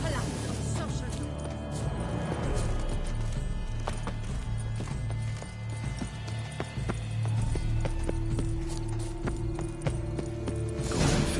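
Horse hooves galloping in The Witcher 3, a steady rapid clip-clop running throughout at close range, with a voice speaking over it at times.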